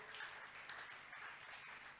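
Church congregation applauding and cheering in praise of Jesus, dense sustained clapping with scattered shouts, moderately distant and filling the room.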